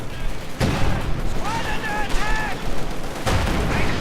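Gunfire crackles in a Company of Heroes World War II battle, with rapid bursts and volleys under continuous excited commentary, several sharp whistling projectile sounds, and sudden louder blasts near the start and end.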